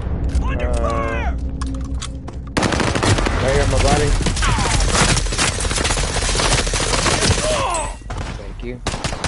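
Rapid automatic gunfire and explosions from a first-person shooter video game, loud and nearly continuous with bursts layered over game effects and voice callouts throughout.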